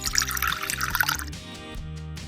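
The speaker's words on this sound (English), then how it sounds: "Pour water over Orbeez." Water poured over a small batch of Orbeez water beads in a miniature craft setup, a close, bright splashing trickle that thins into scattered drips and a few light taps near the end.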